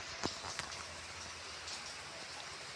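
Rain falling steadily outside a house with a gentle hiss, a few louder drops tapping near the start.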